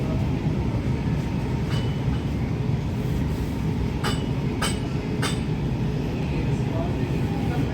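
An express train pulling into Naihati Junction on a Kolkata to Jhansi run: a steady low rumble of wheels and carriages with a few sharp metallic squeals and clanks, while people talk in the background.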